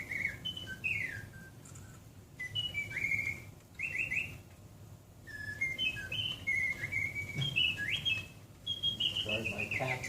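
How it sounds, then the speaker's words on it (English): Real caged birds chirping indoors, repeated bright tweets and short whistled phrases coming in bursts over a low background rumble. "These are real birds."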